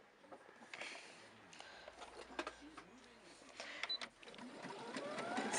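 A sewing machine stitches a button onto fabric in quick, light mechanical bursts, fairly faint and close, with short pauses between runs of stitching.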